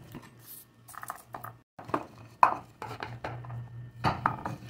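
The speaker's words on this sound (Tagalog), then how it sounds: "Atin lang siyang hiwa-hiwain guys. Gawin natin yung garlic." A knife chopping garlic on a cutting board for a shrimp and squash coconut-milk dish, with quiet irregular taps and a few sharper knocks over a low kitchen hum.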